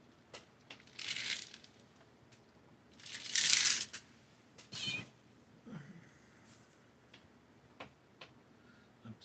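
A house cat meows a few times at close range, the calls short and separated by pauses, with soft ticking and rustling handling noises between them in an otherwise quiet room.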